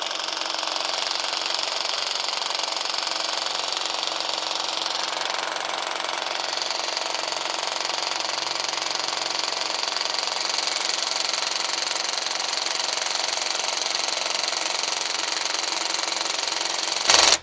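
Ridgid Max Output impact driver hammering continuously for a long stretch, a loud rapid rattling buzz with steady intensity and a brief harsher burst at the end, no voices.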